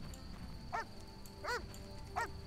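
A dog barks in The Witcher Enhanced Edition, three separate clear barks spaced evenly apart over steady in-game ambience.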